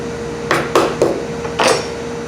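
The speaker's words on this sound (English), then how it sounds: "So I'm just going to hit it with the back of my knife." Back of a kitchen knife striking a chicken leg bone, four sharp knocks in quick uneven succession, close and clear against a quiet room with a faint steady hum.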